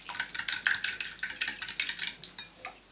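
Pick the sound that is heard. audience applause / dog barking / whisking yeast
whisking yeast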